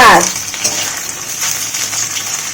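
Banana flower fritters crackle in hot oil in a home kitchen, a close, steady sizzle opening with a brief clatter.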